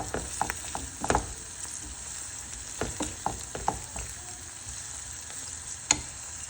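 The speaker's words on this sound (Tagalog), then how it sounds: "Tapos nag-sizzle na rin ang ating corn." Corn sizzles in a pan while a buldak omelette is being made, a steady faint frying hiss broken by occasional sharper pops and crackles, with no voices.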